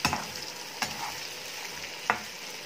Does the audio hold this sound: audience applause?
no